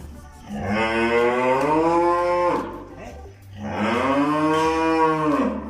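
A large Charolais breeding cow on a farm gives two long, loud, close moos, each rising and then falling, separated by a short pause.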